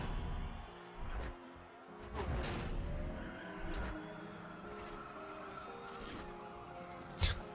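Game car sounds from a Golf A3 in NFS Pro Street: a steady engine drone with tonal harmonics, a few whooshing surges and one sharp loud impact near the end, no talk.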